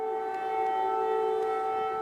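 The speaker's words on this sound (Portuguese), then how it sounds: "Sirenes soaram em Kiev" Civil defense air raid sirens wail over Kyiv, the Ukrainian capital, a steady loud tone held without break and with no speech over it.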